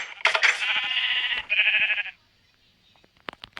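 Two loud, close Minecraft sheep bleats, one long and wavering followed by a shorter one, then quiet clicks.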